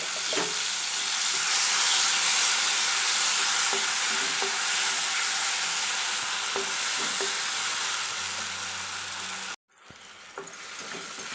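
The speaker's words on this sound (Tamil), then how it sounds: "சுருண்டு வர அளவுக்கு நம்ம இதை நல்லா நெய்யில் வந்து வதக்கிக்கலாம்." Ground jackfruit paste sautés in ghee in a pan while it is stirred, giving a steady, loud frying hiss that carries throughout, with a brief dropout near the end before the sizzle resumes.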